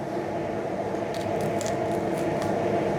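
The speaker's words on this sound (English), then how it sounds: "Put the water in the pan." Water pours steadily into a cooking pan for boiling plantain, a continuous loud rushing splash with a few brief clinks near the middle.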